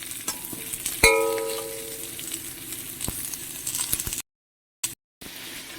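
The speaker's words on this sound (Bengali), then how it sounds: "আমি এরপর আলুটাকে আগে থেকে একটুখানি ফ্রাই করে নেবো" Potatoes fry in a little oil in a pan, a continuous sizzle under a sharp metallic clang with a ringing tail early on, then brief dropouts near the end.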